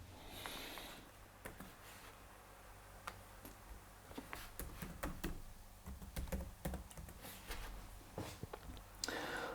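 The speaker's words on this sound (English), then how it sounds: "I use eBay and I type in giant sticker" Typing on a computer keyboard, quiet irregular key clicks in quick clusters close by, over a faint steady background hum.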